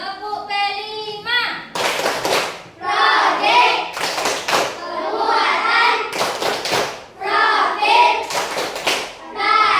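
A school class performs the P5 rhythmic clap chant, children chanting in unison between sharp group claps and hand thumps in a lively repeating pattern.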